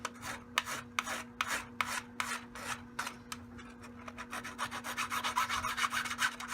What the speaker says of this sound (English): I have a flat jeweler's file. I'm going to come back and just do a little touch up on the web.